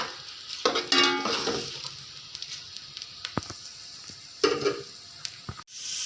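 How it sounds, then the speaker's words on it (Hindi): Onions fry in a pan with a soft, steady sizzle, punctuated by a few scraping stirs and light clinks from a spoon against the metal pan; fairly quiet overall, with no voices. "थोड़ी देर प्याजों को हम भूनेंगे।"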